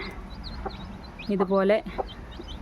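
A black hen gives a short, close burst of clucking partway through, with a person's voice speaking nearby.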